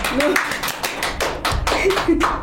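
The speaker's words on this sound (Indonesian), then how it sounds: "Tepuk tangan." Several quick hand claps ring out up close in an uneven burst, mixed with taps and thuds, while voices talk and laugh over them.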